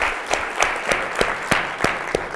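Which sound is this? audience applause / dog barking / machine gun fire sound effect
audience applause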